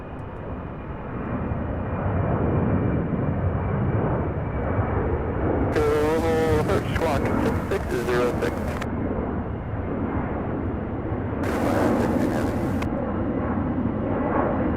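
A heavy Airbus jet taxiing at SDF airport produces a steady, droning engine roar that fills the whole stretch, with two short bursts of radio voice breaking in over it.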